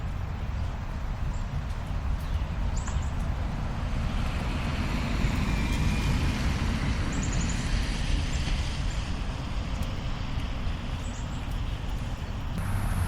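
Road traffic gives a steady, unbroken roar of passing cars, fairly loud and close, with no clear individual pass-bys.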